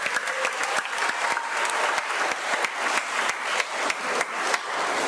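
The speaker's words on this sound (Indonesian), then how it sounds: "Kita tepuk tangan sekali lagi ya." A church congregation claps at a first communion service, dense and even, with sharp individual claps standing out near the mic throughout.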